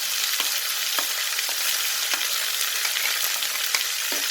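Garlic, ginger, coconut and onion fry in a pan with a constant bright hiss, punctuated by periodic scraping stir strokes about every half second, close and steady with no talking.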